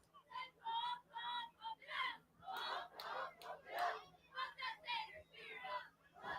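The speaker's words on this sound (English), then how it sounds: "you can hear the cheers cheering, and the fans are being entertained" Stadium crowd at a football game, near the student section, cheering and shouting in rising and falling bursts of massed voices for several seconds, with no clear words.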